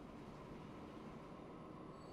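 A passenger train runs in Transport Fever 2, a steady low rumble of wheels on track with a faint squeal, heard from a distance at an even, quiet level throughout.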